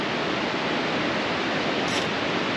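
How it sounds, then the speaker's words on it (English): Waterfall at Jourama Falls on a forest walking track: a dense, steady roar of falling water, close and constant, with no voices. "you can see the waterfall"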